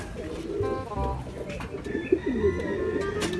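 Pigeons cooing at a loft, soft low repeated coos with a few brighter bird calls, close by over faint background noise.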